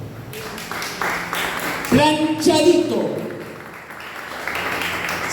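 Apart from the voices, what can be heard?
church audience applauding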